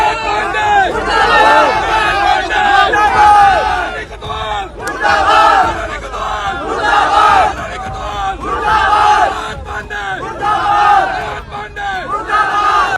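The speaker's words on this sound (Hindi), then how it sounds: "मनोज पांडे मुर्दाबाद के नारे लग रहे हैं" A large crowd chants protest slogans against Manoj Pandey in loud rhythmic bursts, many voices shouting together in repeated waves close to the microphone.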